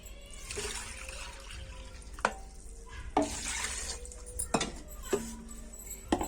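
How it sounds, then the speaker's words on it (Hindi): A metal spoon stirs mutton korma in a pot with water and whole spices, giving several sharp clanks against the metal rim amid wet swishing and faint sizzling, close up and with no voices. "मिक्स कर लूंगी अच्छे से।"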